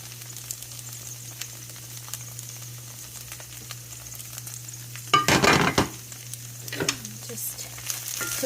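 Carrots dropped into a hot stir-fry pan for a beef and veggie stir fry, a sudden loud sizzle bursting over a steady low kitchen hum, then settling into quieter frying crackle.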